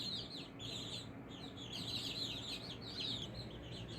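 Young chicks in a brooder, nearly feathered, cheep in rapid high overlapping peeps, a continuous close chorus with no talk.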